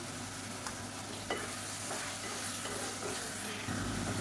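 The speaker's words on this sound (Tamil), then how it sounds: "இப்போ தயிர் சேர்த்து நல்லா வதக்கியாச்சு. நல்லா எண்ணெய் பிரிய ஆரம்பிச்சிருச்சு." Curd is being sautéed into a drumstick and potato masala for murungakai paya, giving a steady close sizzle of frying with occasional soft scrapes and taps of a stirring spoon.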